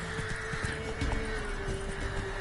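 Roach the horse in The Witcher 3 whinnies over a run of close clip-clopping hooves, with faint game ambience behind.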